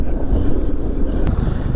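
Wind rushing past a rider behind the small windshield of a Harley-Davidson Softail Sport Glide on the road, a loud continuous low roar and buffeting with brief faint higher noises over it.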